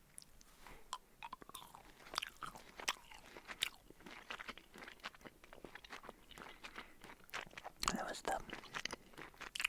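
Close, crisp chewing of hard-shelled "healthy" Halloween candy, with irregular crunches and wet bites in a quiet ASMR setting, and a brief soft voice between chews.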